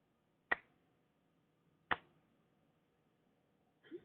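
Two sharp finger snaps about a second and a half apart, crisp and close in a quiet room, with a faint rustle at the very end.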